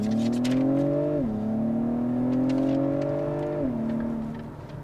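A 2021 Acura TLX Type S with its 355-horsepower engine in Sport Plus climbs in pitch under acceleration, then drops briefly on a gear change and rises again before a second shift, loud and heard from inside the cabin.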